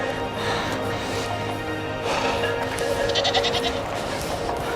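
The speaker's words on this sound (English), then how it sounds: "A group of goats" Goats on a mountain trail along the Karakoram road bleating in a group, several overlapping calls near and far over a windy outdoor background, with faint human murmurs.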